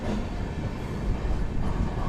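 A crowded Indian passenger express on the Purna–Pune route rolls slowly along the rails, giving a continuous close rumble with soft rhythmic wheel clatter and no voices.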